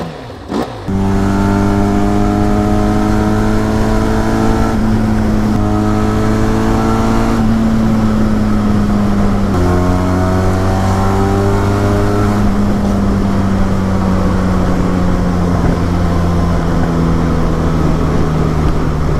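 A Benelli TRK 502 motorcycle from 2021 idles and revs, its steady exhaust note rising and falling through several throttle blips, loud and close with no talking.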